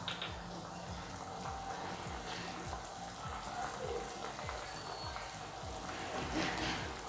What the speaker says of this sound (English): So we're going to add our red oil now.